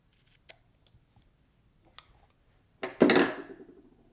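Scissors cutting material while an indoor basil herb garden is set up: a few faint, scattered snips, then one louder, drawn-out crunching cut near the end, close by with no talk.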